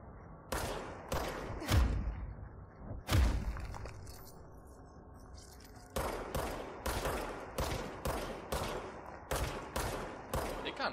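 Rapid bursts of gunfire from a Glock and other guns in a video game, loud sharp shots repeating in quick regular volleys with a few heavier thuds early on, no talk over them.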